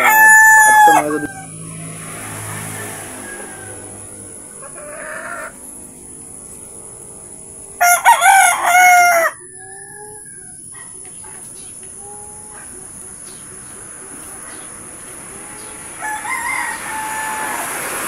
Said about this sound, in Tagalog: Paamuhin yung alaga natin manok labuyo.